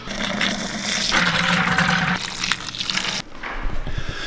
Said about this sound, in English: So while the buckets fill up with water